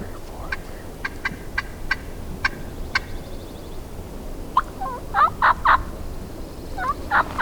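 Wild turkey gobblers on public land in Mississippi call from a distance: a series of faint short notes comes first, then several loud rattling gobbles in quick succession over quiet outdoor background.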